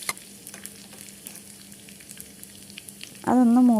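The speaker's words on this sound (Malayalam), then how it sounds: "ഇനി നമുക്കിതിലേക്ക് കുറച്ച് ഉള്ളി അരിഞ്ഞിട്ട് കൊടുക്കാം" Chopped onions fry in coconut oil with mustard seeds and fenugreek, giving a soft, steady sizzle with scattered light crackles. A louder wavering tone cuts in near the end.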